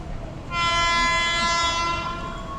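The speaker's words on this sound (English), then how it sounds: "Oh, okay, train's coming in." A commuter train pulls into a station in Jakarta, its horn sounding a loud, sustained blare that swells in and holds for about two seconds over low rumbling platform noise, with no voices.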